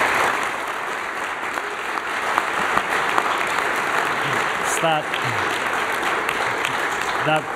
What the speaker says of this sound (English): I'd like to just give another round of applause to all of the awardees